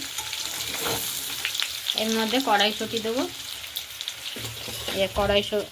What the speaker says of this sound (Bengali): এই যে আলুটা ভাজা হচ্ছে